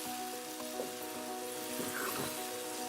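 Masala for dal mash cooks in a pan after a splash of water, giving off a steady, soft sizzle and bubbling with a faint hum in the background.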